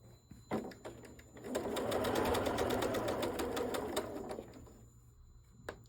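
A sewing machine stitches a curved seam on a wave quilt, starting with a few single clicks before a steady rapid run of needle strokes for about three seconds, then slowing and stopping.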